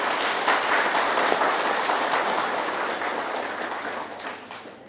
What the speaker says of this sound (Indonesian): Kita beri aplaus yang meriah untuk kedua narasumber yang telah kita hadir pada hari ini.